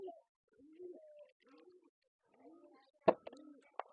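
Low, soft cooing calls of pigeons in a pigeon house repeat a few times with short gaps, joined by a couple of sharp clattering knocks near the end.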